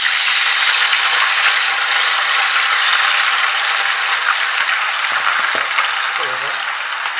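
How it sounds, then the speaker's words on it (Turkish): Loud, dense sizzling of potatoes frying in hot oil, a constant crackling hiss up close, with faint clinks of a utensil near the end. "Kızınca patateslerimi kızartmaya başlayacağım. Patateslerimi atıyorum."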